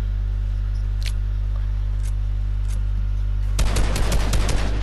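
Fortnite gunfire: a few faint isolated shots over a steady low hum, then a loud rapid burst of automatic fire in the final second.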